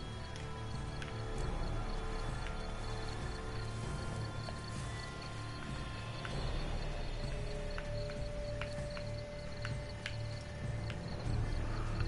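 Horse hooves clip-clop in The Witcher 3: Blood and Wine, steady rhythmic hoofbeats under a constant game ambience with occasional higher tonal chimes, moderately loud and unbroken with no talk.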